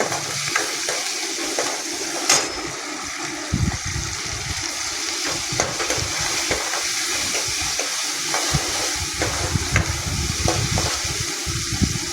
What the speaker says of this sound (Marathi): छान असं हलवून घ्यायचं टमाटर पण